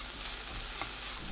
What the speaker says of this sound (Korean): 5분 볶아주세요.